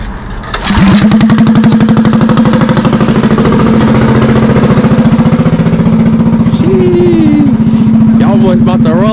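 A small mini bike engine starts after a second of low background, then runs with a loud, rapid pulsing putter and a brief rev midway, close up with a voice speaking over it near the end.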